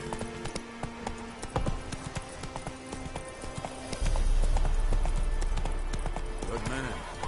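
Horse hooves clip-clopping at a trot in the video game Witcher 3, a steady rhythmic clatter that builds louder partway through, with game music and voices over it.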